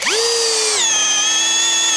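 A STR STR-712 impact drill in plain drilling mode spins up with a rising whine and bores steadily into wood, a loud continuous motor tone that drops slightly in pitch as the bit bites, heard alone throughout.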